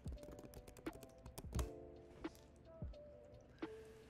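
Password being typed on a computer keyboard while logging into an Ubuntu 20.04 server: a quick run of close, crisp key taps with a few louder thumps, no talking.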